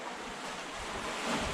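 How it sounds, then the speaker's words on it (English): Surf breaking along an island shore in Thailand reached by longtail boat, a steady loud wash of waves with wind noise across the microphone, building slightly toward the end. "check out these waves"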